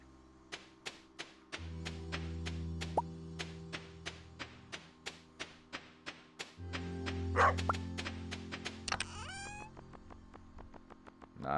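A dog in the video game Stardew Valley barks in a steady series of short, clipped yelps over a looping game music backdrop, with chimes and game effects mixed in.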